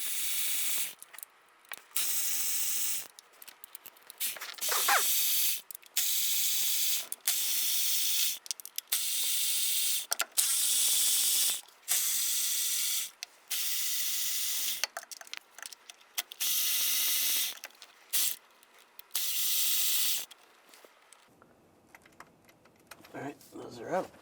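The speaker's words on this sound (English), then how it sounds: "Now we're going to take all the bolts out of the valve cover. Use a 8mm socket." A ratchet with an 8mm socket loosens caged valve cover bolts on a 2011-2018 Ram 1500, in a long run of close, crisp clicking bursts separated by brief pauses, with a faint low hum underneath.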